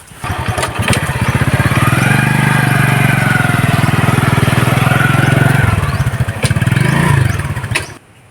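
A motorcycle engine rumbles loudly nearby, its steady chugging idle swelling briefly with a rev before dropping away at the end.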